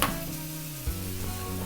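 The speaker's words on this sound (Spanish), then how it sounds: "Todavía no he echado ni siquiera aceite, solo con la grasita que va echando la propia carne, está perfecto." Galician beef picanha sears in a pan in its own rendered fat, giving a steady loud sizzle with a brief clunk partway through and no talking.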